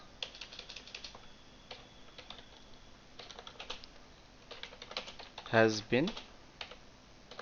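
Fingers typing on a computer keyboard while entering an accounting voucher in TallyERP9, brisk clusters of quiet key clicks in short bursts, with someone speaking briefly over them.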